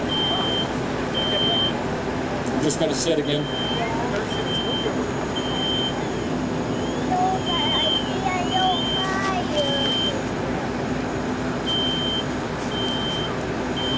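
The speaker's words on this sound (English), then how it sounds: "Sprinkler, or excuse me, smoke detector activates." Steady, repeating high electronic smoke detector beeps sound at regular intervals over a loud, constant engine rumble at a fire department live burn demonstration, with someone speaking briefly.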